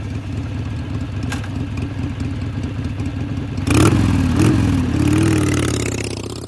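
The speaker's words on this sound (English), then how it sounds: "That is the extremely distinctive sound of the current generation of one of the most iconic motorcycle engines of all time, Harley's Milwaukee 8." Harley-Davidson Milwaukee 8 V-twin motorcycle engine idling with a lumpy, uneven rumble, then revved hard several times in loud bursts before settling back, heard close and alone.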